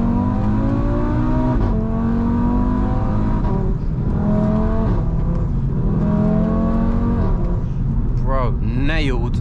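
A 515 bhp Audi RS3 engine revs hard while driving, rising pitch sweeps through the gears with steady loud engine drone, a voice talking over it and whining sweeps near the end.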